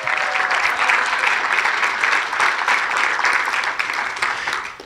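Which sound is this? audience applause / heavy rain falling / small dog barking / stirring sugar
audience applause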